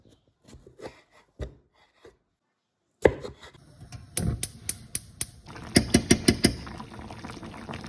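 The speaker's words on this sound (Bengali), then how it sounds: "এখন এই টমেটোগুলোকে ধুয়ে কেটে ফেলবো, তারপরে এগুলো চাটনি বানাবো।" Tomatoes being chopped for a chutney: a few scattered knife taps, a pause, then a quicker run of sharp chops on a board, close and clear with no talk.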